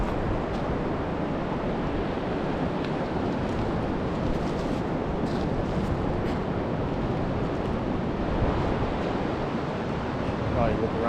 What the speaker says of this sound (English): Let the waves roll over it a little bit.